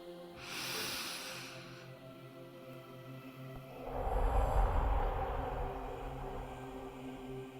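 Someone breathes out through the mouth in a relaxation exercise, with a soft breath near the start and then a longer, louder, breathy exhale after a pause.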